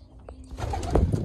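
Soft pigeon cooing at a breeding setup with nests rises near the end of the short stretch, low and murmuring over a dull background rumble.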